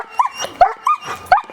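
A dog out on a walk gives four short, sharp yips or barks, evenly spaced about every third of a second, close by and fairly loud with no talking.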